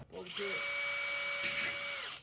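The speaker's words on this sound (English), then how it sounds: "Drill away" A power drill whirs steadily at high speed for about two seconds in a basement workshop, a loud sustained whine that spins up and then winds down.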